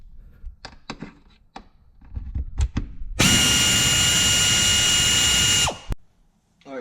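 A power drill runs a steady, close whir for a few seconds while backing out T30 Torx screws on a panel of a 2018-2019 Mustang GT, with light clicks and handling noises before it.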